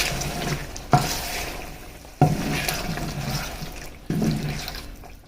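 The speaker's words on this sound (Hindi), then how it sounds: "तो ये साथ थोड़ा सा पानी शामिल करेंगे।" Water is poured into a sizzling pan of balti chicken karahi in three short splashes, each followed by bubbling and hissing as it cooks down, close by and with no talking.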